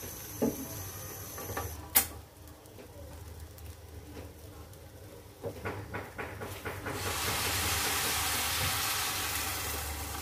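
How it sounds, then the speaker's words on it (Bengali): Water poured into frying rice in a pot for khichuri bursts into a rising, broad hiss that builds and holds steady, following a few scattered clanks and kitchen noises. "এখন আমি পানিটা অ্যাড করে দিচ্ছি"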